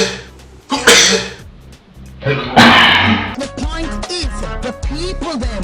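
A person sneezes during a lively indoor party game, a sharp burst followed by another, mixed with chatter, laughter and music from a gathering.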